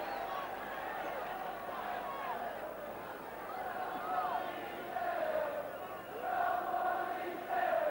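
Large football stadium crowd of over fourteen thousand at Love Street for St Mirren v Celtic in 1979, a steady roaring murmur with swelling chants and cheers rising and falling throughout.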